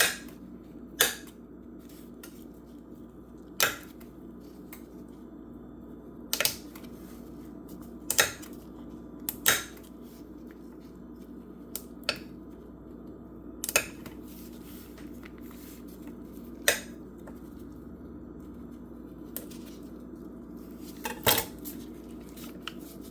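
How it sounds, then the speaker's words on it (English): A knife cuts butter into small cubes on a board, about a dozen sharp taps spaced out unevenly over a low steady background hum, quiet and close. "Cut this butter in the small cubes, as small as possible."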